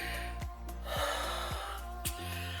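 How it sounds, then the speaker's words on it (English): Heavy breathing in and out, a few loud breaths and gasps spaced through a short stretch at close range, with no talking. "Okay, you know why I'm breathing in and out?"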